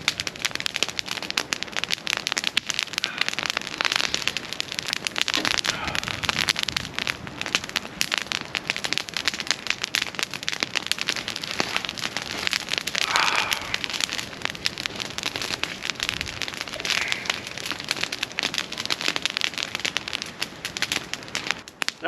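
An outdoor campfire, with leftover pizza warming over it, crackles and pops steadily, with dense irregular snaps at moderate level and no talking.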